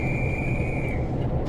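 A guard's whistle on a station platform in Train Sim World 4 at Preston, one sustained shrill tone lasting about a second over a low rumbling station background.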